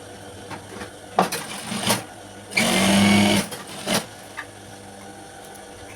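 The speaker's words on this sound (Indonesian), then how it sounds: "Jadi untuk lengkungan ini kita jahit bawahnya, langsung kita jahit." Sewing machine stitching the hem of a school skirt in short bursts, with one longer, louder run of rapid stitching in the middle and brief quieter runs before and after, close by with no talk.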